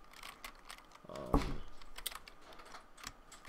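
Keystrokes clatter on a computer keyboard at a trading desk, a quick run of close taps with one louder thump, set against a busy background murmur.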